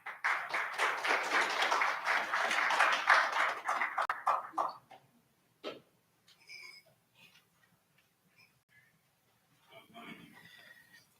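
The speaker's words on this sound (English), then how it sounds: "Please give him a round of applause." An audience at a 30 Years of Democracy celebration applauds a speaker, a full round of clapping lasting several seconds before fading into near silence with a few scattered taps and faint sounds.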